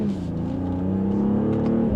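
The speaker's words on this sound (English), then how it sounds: "So let's go ahead and give it another small acceleration." A 2025 BMW X4 M40i luxury SUV gives a short, gentle acceleration, its engine and exhaust rising in a smooth steady hum heard from inside, with no voices.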